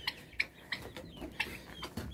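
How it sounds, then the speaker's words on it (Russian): Young turkeys peep and cluck in short, thin calls spaced irregularly, fairly faint, amid low rustling in a farm shed. "Все, гляньте, индюки малые."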